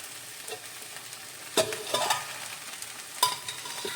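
A spoon stirs masala okra (bhindi) in a frying pan with soft scrapes and a couple of sharper clanks against the metal over a faint sizzle, close by and without speech.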